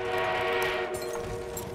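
An enemy armored train in Battlefield 1, heard as a sustained, droning horn-like blare over rumbling rail noise, loud and steady through the short moment with no talking.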